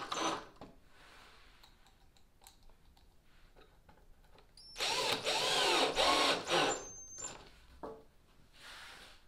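A drill drives 1 5/8 inch stainless deck screws into plywood on a home-built boat, giving a close, loud whine that ramps up for about two seconds amid lighter clicks and handling noise, with no talk.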